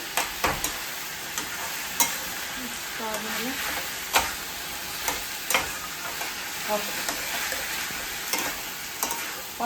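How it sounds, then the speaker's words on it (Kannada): Food being stirred and mixed in a hot pan, with a steady sizzle of frying under a series of sharp scraping strokes that recur every second or so, close and moderately loud. "ಹೀಗೆ ಇದನ್ನ ಚೆನ್ನಾಗಿ ಮಿಕ್ಸ್ ಮಾಡ್ಕೊಬೇಕು"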